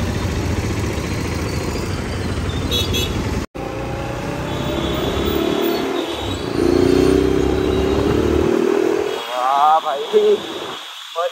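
A motorcycle ridden through city traffic: a steady engine hum with wind rush runs throughout, with a brief dropout and some shifting road noise toward the end.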